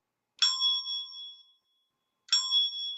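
A bright metallic desk bell tuned to C strikes twice, each ding ringing clear and close before fading, with a short silence between the two tones.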